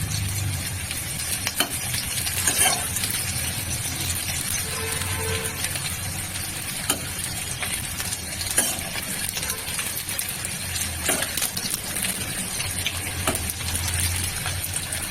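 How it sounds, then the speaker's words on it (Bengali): Chicken pakora pieces, bones included, frying in hot oil give a steady, dense sizzle throughout, with occasional faint clinks and stirring sounds over a low background hum. "হাড়টাও ভাজা হচ্ছে"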